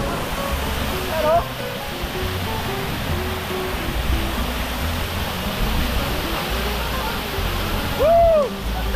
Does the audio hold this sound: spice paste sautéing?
no